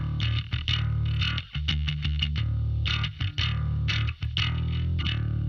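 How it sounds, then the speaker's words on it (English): A 1974 Jazz Bass played with a pick, all controls wide open, plucking a steady, loud run of notes with sharp bright attacks and a deep sustained low end, played alone with brief gaps between phrases. "So it's a 1974 jazz bass, as I said, all the controls wide open."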